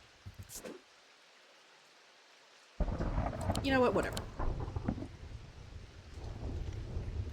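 A loud rumble of thunder rolls in over steady rainstorm noise in the video game Mimicry, after a brief quiet gap, with someone talking at the start and through the storm.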